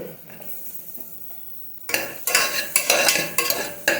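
Onion and garlic sautéing in a pan for spinach soup, with quiet stirring at first, then louder scraping and sizzle that comes in repeated bursts of close, busy clatter.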